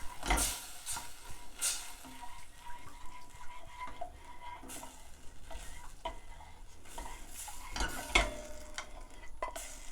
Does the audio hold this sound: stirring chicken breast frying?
yes